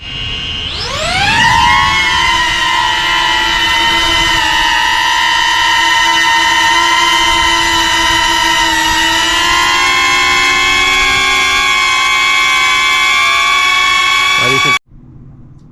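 A DJI Neo drone fitted with Master Airscrew propellers spins up and holds a steady, loud whining buzz with layered tonal harmonics, then cuts off abruptly near the end.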